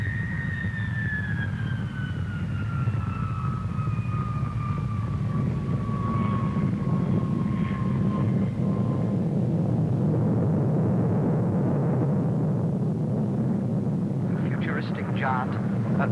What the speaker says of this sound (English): The new Vulcan, the world's biggest Delta.